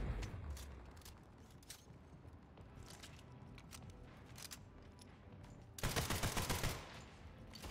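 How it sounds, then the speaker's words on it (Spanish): Pistol shots in a video game ring out as a loud, close burst of several rapid cracks near the end, following quieter in-game movement and background sounds. "Dos disparos de pistolita y un pepinazo en la frente"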